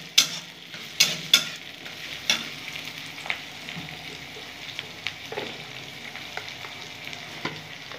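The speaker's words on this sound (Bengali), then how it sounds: "সব একটু ভালো করে ভাজা ভাজা করে নেব।" Onion, dried, green and ripe chillies, ginger and garlic fry in a pan, a soft steady sizzle broken by several sharp clacks of a spoon stirring, close and alone.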